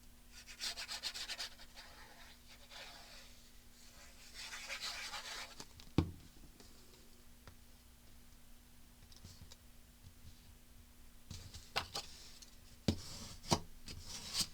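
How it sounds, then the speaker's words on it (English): Paper being burnished down onto a handmade tag mini album, a soft close rubbing and scraping that comes in quiet passes, with a few light taps and clicks between strokes. "Burnish this down really nice."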